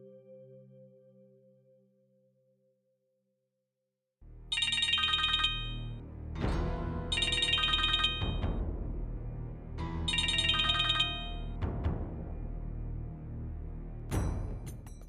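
A phone rings with an electronic ringtone, repeated bursts of bright chiming tones alternating with a lower melodic phrase, fairly loud and steady after a faint hum fades out; no speech.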